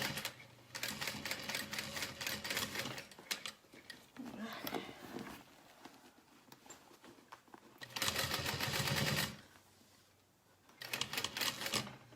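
A domestic sewing machine stitches a fabric handbag in loud rapid bursts, running a few seconds, pausing, then starting again, with a person talking quietly between runs.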